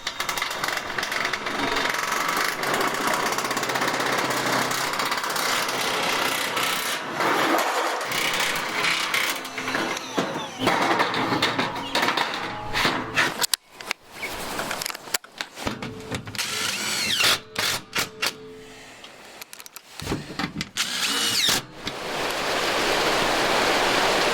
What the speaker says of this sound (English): I used the nibbler to cut these sheets to length